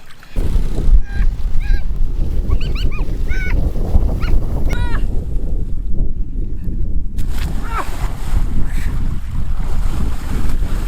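Water rushes steadily through a PVC pipe siphon at a river, loud and constant, mixed with wind buffeting the microphone and a few short excited shouts.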